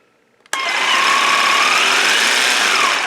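Ryobi P5231 18-volt orbital jigsaw switches on abruptly and runs steadily at its highest speed setting, a loud, continuous high-pitched motor whine with a slight rising tone, no cutting and no talking.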